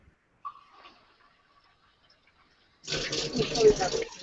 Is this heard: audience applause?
no